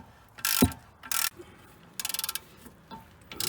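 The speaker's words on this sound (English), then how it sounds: "And then you can remove the 2 strut bolts." Ratchet wrench loosening strut bolts during a car brake and suspension job, heard in several short bursts of rapid clicking separated by pauses, close and fairly loud with no talking.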